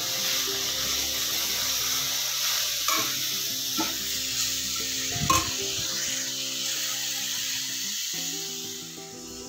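Dry coconut and mint leaves fry in a pan while being stirred, a continuous close sizzle with a few scraping knocks of the spoon against the pan, steady and moderately loud with no voices.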